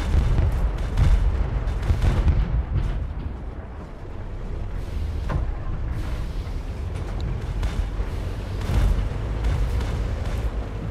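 Tank cannon fire in the video game Tank Off 2: a steady barrage of deep, rumbling booms and blasts that repeat throughout, loud and dense with no clear pause.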